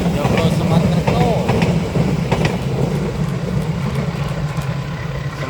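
The Joglo Semarkerto passenger train bound for Semarang rumbles past a trackside spot at Tumiyang, Banyumas, a loud, close, steady rolling roar with faint clacks that eases slightly toward the end as a voice talks over it.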